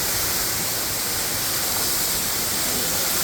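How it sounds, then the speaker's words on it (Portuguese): Steady broadband roar of a waterfall heard from a campsite some distance from the drop, a constant, even wash of falling water with no breaks and no voices. "Aqui já dá para sentir a brisa da cachoeira, essa névoa, as partículas de água que voam aqui."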